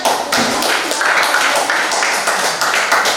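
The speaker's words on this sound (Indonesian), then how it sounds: "Tepuk tangan dulu untuk semuanya." Classroom applause from a group of schoolchildren, steady dense clapping filling the whole stretch at close range with no talk over it.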